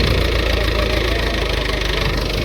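A tractor engine idles close by with a steady, throbbing rumble and a faint regular knock, continuous and alone.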